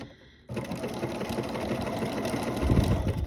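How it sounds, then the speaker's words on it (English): A sewing machine runs back stitches through coiled rope while forming the base of a rope bowl: a steady, close mechanical whirr that starts abruptly after a short quiet moment and keeps going without pause. "I'm going to take a few back stitches."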